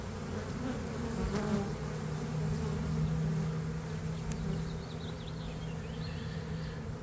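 A honey bee swarm of early 2023 buzzes as a thick, steady drone close to the hive box, a continuous hum that never breaks or fades.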